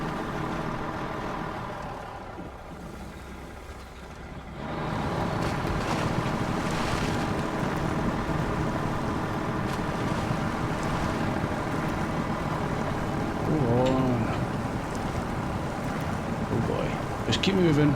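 A heavy International truck towing a trailer wades through water in Snowrunner, with a steady, loud sloshing wash and engine rumble that stays constant throughout, swelling slightly near the end.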